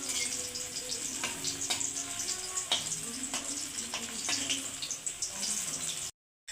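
Banana and semolina fritters fry in a pan over low heat with a steady, close hiss of bubbling oil and a few faint clicks, running continuously before a brief silence near the end.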